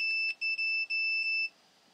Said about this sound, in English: I got the meter on continuity so it beeps.